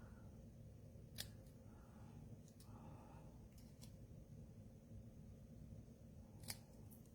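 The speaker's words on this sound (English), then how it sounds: "and then I cut from the corners." Scissors snipping patterned paper for a small handmade note card, a few sharp, quiet cuts spaced apart in a hushed room.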